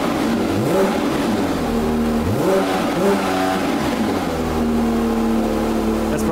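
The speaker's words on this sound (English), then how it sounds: "He can rev it if he wants to." Car engine held in park and revved repeatedly, loud and close, the pitch climbing and falling in several swells over a steady idle.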